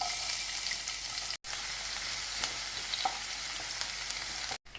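Finely chopped garlic sizzles in hot oil in a kadai with a steady, bright crackle and hiss, broken by two short silent gaps, with no talking.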